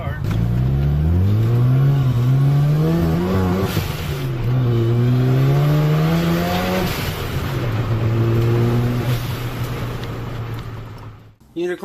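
A rattly six-year-old rotary-engined VW Bug revs and accelerates hard through its long gears, the engine note climbing and dropping repeatedly, loud and close, then cutting off at the end.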